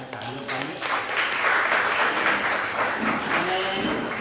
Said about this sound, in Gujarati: એટલે એના માટે આપણે તાળીઓ પાડીએ.